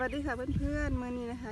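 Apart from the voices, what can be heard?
None of the usual background noises is heard.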